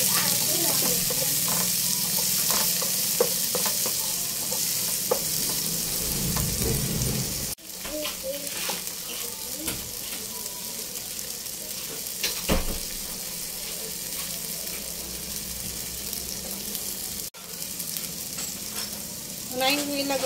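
Tomatoes frying in a pan give a steady sizzle with intermittent pops and stirring scrapes, plus a couple of abrupt cuts, for a home cooking of vegetables.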